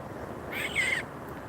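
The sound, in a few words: small bird calling from a tree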